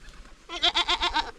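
A male goat bleats once in a quavering, pulsing call lasting under a second, close and fairly loud after a brief quiet lead-in.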